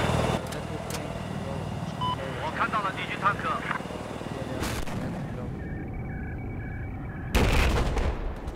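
A helicopter drones in a Battlefield-style shooter match on the Golmud Railway map, mixed with bursts of gunfire and explosions, with a few beeping tones and a sudden loud blast near the end.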